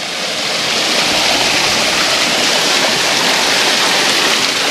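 A village stream in West Papua, Indonesia, used by families for bathing and washing, flows steadily with a loud, close, continuous rushing babble and no pauses.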